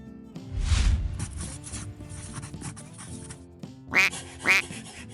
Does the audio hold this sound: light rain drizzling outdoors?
no